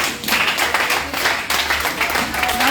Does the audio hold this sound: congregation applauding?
yes